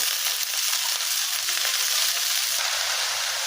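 Washed dhekia fern greens hit a pan of fried onion and garlic, giving a loud, continuous sizzle with faint stirring scrapes underneath, close and steady throughout.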